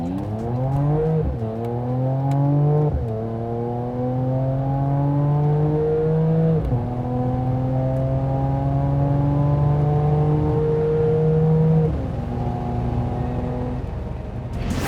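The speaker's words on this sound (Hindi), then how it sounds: "जब आप उसके एग्जॉस्ट नोट को सुनेंगे" A 2021 Mercedes-AMG E 53 accelerates while driving, its exhaust note rising repeatedly through the gears with clear shift dips, loud and close throughout.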